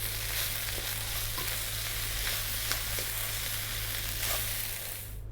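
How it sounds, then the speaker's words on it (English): Rice sizzles steadily in a hot pan while being stirred, a continuous frying hiss with soft scraping strokes throughout, alone with no talking, fading slightly at the end. "stirring and frying our rice"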